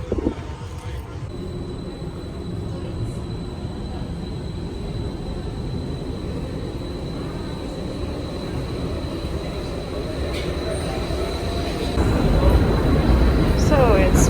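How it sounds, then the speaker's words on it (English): A metro train at Monastiraki station in Athens at night, a steady rumbling drone with a faint high whine that swells louder near the end as the train draws closer. "I am in the Monastiraki metro station."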